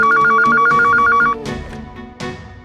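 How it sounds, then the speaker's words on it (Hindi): A telephone rings with rapid repeated electronic trills while a call goes through to a police station, loud and close, then cuts off into a few muffled handling knocks. "फोन लगाओ पुलिस स्टेशन।"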